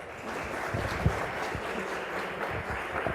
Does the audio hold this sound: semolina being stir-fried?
no